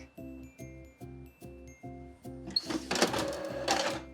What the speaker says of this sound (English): let's just hit print, cross our fingers, and hope that the printer works.